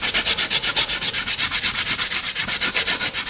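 Sanding a burr out of a blade, a fast rhythmic rasping of repeated strokes, loud and close, about six strokes per second, with no talking.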